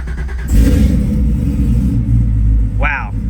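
A supercharged LT4 engine in a 1965 Chevrolet Malibu SS with a Flowmaster exhaust cranks and catches with a sharp burst, then settles into a loud, deep, lumpy idle rumble, with a brief voice near the end.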